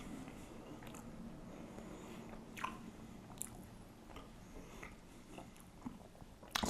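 Close, moist chewing of Xtreme Regret beef jerky, with soft crunchy bites and mouth sounds repeating irregularly over a steady low room hum, no talking.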